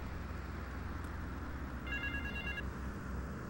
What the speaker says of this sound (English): Like I can hear a phone somewhere around here.